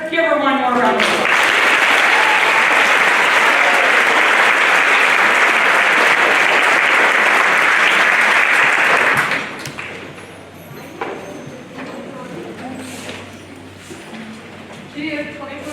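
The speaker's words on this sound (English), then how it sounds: "Give her one more round of applause." A school band concert audience gives loud, sustained applause for about eight seconds, then it stops abruptly, leaving quiet room noise with a few scattered claps, thumps and a spoken voice.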